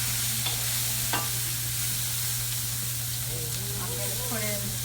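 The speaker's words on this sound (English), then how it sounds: "We're going to saute this." Chicken cacciatore sautés in a pan over low to medium heat, with a steady sizzle and frying hiss throughout, a constant hum beneath, and a few brief voice fragments near the end.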